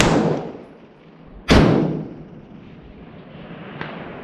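A single sharp rifle shot cracks loudly on an outdoor shooting range, a long-distance 1 MOA challenge, followed by a fading rolling echo and a faint distant tick from the steel miniature target being hit.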